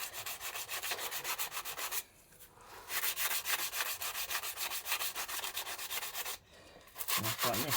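Sandpaper rubs back and forth over a car's brake disc in quick, even strokes. The rasping is loud and close, stops briefly twice, and comes with no talk.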